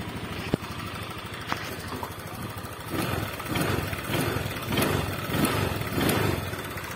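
A Honda Vario scooter engine, under repair for a faulty TPS throttle sensor, starts with a couple of sharp clicks and then settles into a close, steady, pulsing idle.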